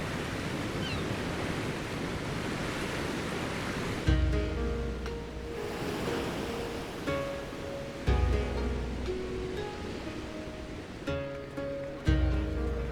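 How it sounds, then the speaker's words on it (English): Sea waves roll and crash near a shore on the approach to a port, a steady broad wash of surf with periodic heavier breaking surges every few seconds and bright tonal sounds over it. "I remember the sea, the smell of the salt, and the crash of the waves as we drew closer to Kugane."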